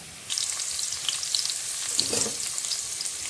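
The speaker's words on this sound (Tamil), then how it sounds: "நல்லா வதக்கிக்கலாம்" Onion, capsicum and tomato sauté in a hot pan with a loud, continuous close-up sizzle and crackle, broken by soft stirring scrapes and no voices.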